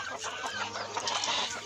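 Hens kept for egg laying cluck continuously at close range on a poultry farm, a busy overlapping chatter of several birds with no voices.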